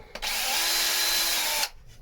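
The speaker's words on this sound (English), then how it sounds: "is with the drill" A power drill whirs at a steady pitch for about a second and a half, drilling out a locker hatch on a boat, starting and stopping abruptly, close by with no talking.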